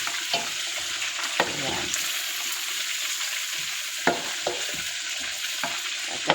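Whole fish frying in a pan with garlic, a steady broadband sizzle with scattered pops and clatters of a utensil stirring, close and moderately loud, with a brief spoken word.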